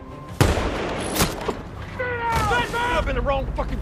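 A gunshot in a sniper film gives a sharp, loud crack near the start. Further impact-like bangs follow, with voices and mechanical clatter around them in a dramatic movie scene.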